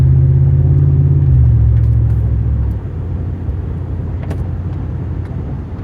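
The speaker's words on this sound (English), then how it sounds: "Downshifting properly." A 2010 Ford F150 Raptor truck drives along as its transmission downshifts, the loud steady engine rumble dropping in pitch partway through and settling into a lower, even drone.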